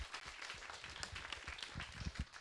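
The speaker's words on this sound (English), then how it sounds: "Let's give Pope another round of applause" Audience applause at the end of a linguistics conference talk, faint and distant clapping that keeps going for a few seconds.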